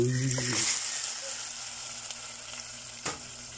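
Chicken pieces sizzle and spit in a hot pan as pochero is started, with a brief stirring scrape early on and a sharp clack near the end, the frying hiss steady and close throughout.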